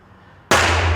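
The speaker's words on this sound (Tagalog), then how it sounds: "Ito yung ginamit nating baril, Rock Island, na Cerakoted ng gray." A single loud, close gunshot from a gray Cerakote Rock Island Armory 1911 pistol on a 10-yard range, a sudden sharp blast followed by a sustained noisy decay.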